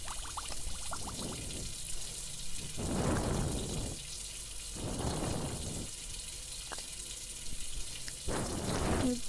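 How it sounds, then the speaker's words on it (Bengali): Tap water pours in several separate bursts for hand washing in the Avatar World video game, each a soft splashing rush of a second or so, with brief quiet gaps between. "দেন একটু হাত ধুয়ে নেই আমি।"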